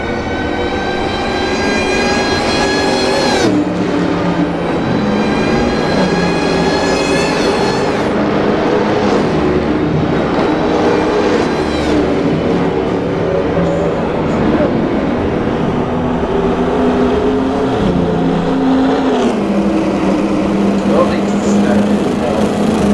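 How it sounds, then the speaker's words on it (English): Steady, loud engine drone with high whining tones as racing cars pass by one after another in the racing game Assetto Corsa, continuous throughout. "the cars, I believe, are about to come through."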